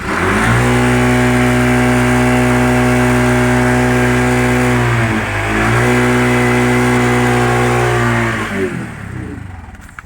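A CNG auto-rickshaw engine runs loud and close with a steady harmonic drone, briefly dipping and recovering mid-way before cutting off near the end; no voices are heard.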